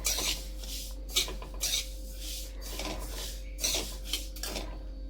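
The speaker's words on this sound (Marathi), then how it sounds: "एक दोनच मिनटात आपले तीळ भाजायला सुरुवात झाली" Sesame seeds dry-roast in a pan over a medium gas flame, heard as repeated scraping and rustling bursts of stirring over a low constant hum.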